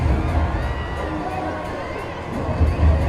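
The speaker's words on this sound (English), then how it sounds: "Giving their fans something to cheer about." A cricket crowd cheers and shouts at a T10 match in a stadium, a broad roar with bursts of whooping, with a commentator's voice faintly mixed in.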